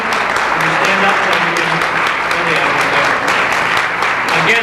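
Audience applause at an AARP installation lunch for volunteers who took pictures and handled cameras, a loud, steady roomful of clapping lasting throughout, with a faint voice underneath.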